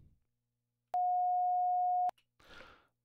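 An oscillator produces a smooth, steady sine-wave tone that sounds alone for about a second, starting and stopping abruptly, with faint noises before and after.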